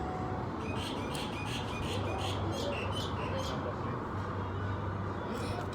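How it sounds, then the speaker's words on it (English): Birds sing outdoors at Constitution Hill in Johannesburg, with repeated bright chirps and squawks carrying over a steady wash of background noise and distant murmuring, moderately loud throughout. "do you hear the birds?"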